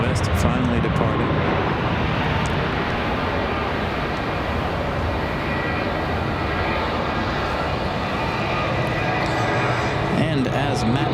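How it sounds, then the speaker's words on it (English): A Southwest Airlines jet departs Raleigh-Durham International Airport, its engines producing a loud, steady roar that fills the scene throughout without fading. "And we got Southwest finally departing."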